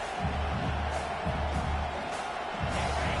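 Stadium crowd at a Missouri vs Oklahoma college football game in a video game, a steady roaring cheer with rhythmic swells, heard under the game's ambience.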